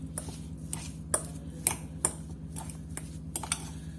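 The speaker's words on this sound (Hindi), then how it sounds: "अब मैं इसके अंदर ये सारे मसाले आपके अपने अकॉर्डिंग है, नमक मिर्च, ये डाल के अच्छी तरह मिक्स करूंगी" A spoon stirs salt, chilli and spices into mashed potato for an aloo sandwich filling, giving soft scattered taps and clinks against the bowl, quiet and close over a steady low hum.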